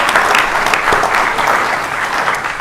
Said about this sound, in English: I want to give them a special round of applause